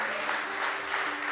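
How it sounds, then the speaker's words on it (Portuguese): A church congregation applauds steadily for just over a second, a dense wash of clapping with a faint sustained tone underneath. "Quem pode aplaudir o Senhor por isso?"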